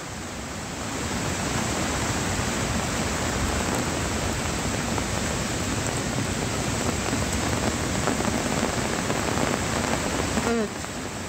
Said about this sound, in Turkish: Aşırı yağış yine devam ediyor.